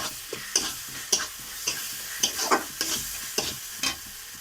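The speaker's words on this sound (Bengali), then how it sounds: "মশলাগুলো কষি নেওয়া হয়ে গেলে আমি এখানে যে বেটে রাখা মশলাগুলো রেখেছিলাম সেইগুলো দিয়ে আবারও কষিয়ে নিচ্ছি" A ladle scrapes ground spice paste around a hot pan for a jackfruit curry, in steady rhythmic strokes roughly every half second over a soft sizzle, close and clear with no talk.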